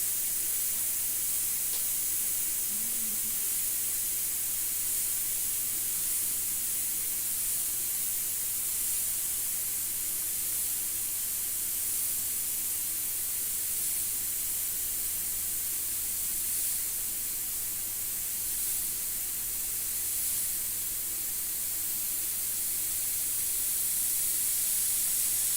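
Lacquer paint hisses from a spray gun in one long, steady stream, blue coats first and then black over the top, near and unbroken with no talk.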